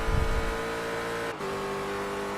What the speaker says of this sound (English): The car just shifts down to second